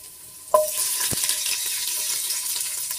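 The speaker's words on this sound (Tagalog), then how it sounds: "Init na po ang ating mantika, kaya tayo magigisa ng ito po, bawang." Garlic hits hot cooking oil for a chicken sotanghon soup with a sudden sharp sizzle, then keeps frying in a steady, close crackling hiss, with a brief clink partway through.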